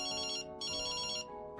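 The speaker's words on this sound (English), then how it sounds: "The phone rings." A telephone rings during a dinner at home, sounding two clear electronic ring bursts with a brief gap between them, close and fairly loud, with no voices.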